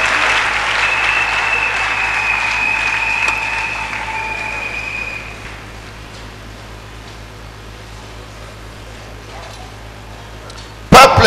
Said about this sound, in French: On acclame encore très fort le Seigneur.